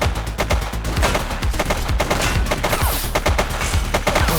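Rapid bursts of video game gunfire from The Precinct, a dense, loud fusillade of overlapping shots without pause.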